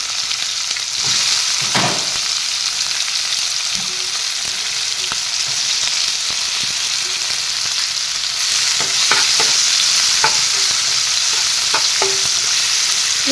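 Onions frying with whole cumin seeds in a wok give a steady close sizzle and hiss, with occasional sharp scrapes and taps of a stirring spoon against the pan.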